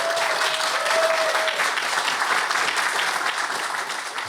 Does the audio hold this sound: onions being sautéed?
no